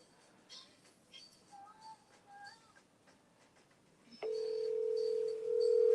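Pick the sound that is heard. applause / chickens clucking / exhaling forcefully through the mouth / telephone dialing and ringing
telephone dialing and ringing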